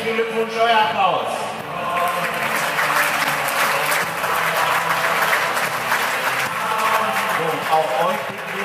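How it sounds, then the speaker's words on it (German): Applause at an award ceremony for the girls' U17 finalists of a German youth championship, steady crowd clapping running throughout beneath a voice and background music. "euer Applaus"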